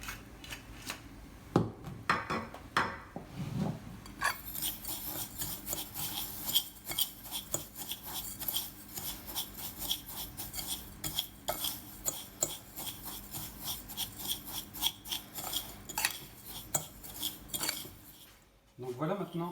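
A utensil clinks and scrapes against a bowl while semolina is mixed with egg yolk and oil, a quick continuous rattle of close metallic taps with no talking.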